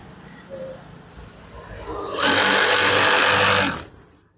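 A sewing machine stitches a wide curtain panel, its motor whirring loud and close in a steady run of about a second and a half before stopping, with quieter handling noises beforehand.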